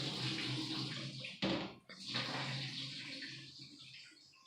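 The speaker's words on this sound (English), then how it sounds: "I dump the water into the sink." Bean-soaking water from a pot of dried beans dumped into a kitchen sink, a steady broadband splash and gush that surges briefly midway, then tapers to a lighter trickle as the pot drains.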